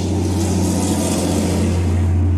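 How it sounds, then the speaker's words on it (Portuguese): Noisy truck passing on the street, a loud low engine rumble with a steady drone, close and continuous, with no talk over it. "que é tanto caminhão barulhento, gente, passando"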